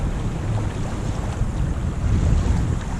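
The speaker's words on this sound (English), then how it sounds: "Really windy out, and I mean really windy out." Strong wind roars and buffets continuously, a dense rumbling rush with gusts swelling louder toward the end.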